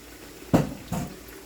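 A utensil knocks twice against a pot while boxed macaroni and cheese is stirred, giving two short, close metallic clanks with quiet between them.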